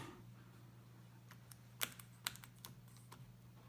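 Sparse, quiet keystrokes on a liquid-damaged HP EliteBook laptop keyboard, a handful of crisp clicks spaced irregularly over a low steady electrical hum.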